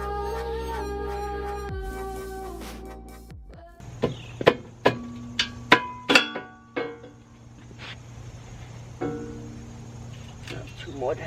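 Wrench work while a crash bar is unbolted from a Honda Pioneer 500 utility quad: a run of sharp metallic clicks and knocks, close and fairly loud, over a low steady hum, with a few tool clinks trailing off afterward.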